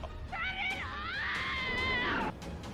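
A woman's shrill, sustained scream from the original Evil Dead horror film rises and wavers for nearly two seconds before cutting off, loud and alone.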